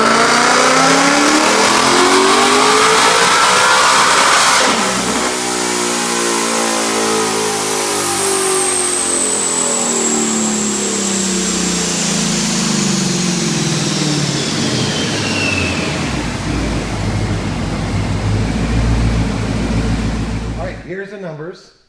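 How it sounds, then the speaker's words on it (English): A supercharged 2019 Ford Mustang with a Vortech V3 and automatic transmission makes a loud dyno pull, the engine climbing through the revs in a long, close roar with shifts before cutting off abruptly at the end. "Watch this dyno pull."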